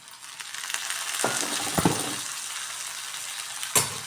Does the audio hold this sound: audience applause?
no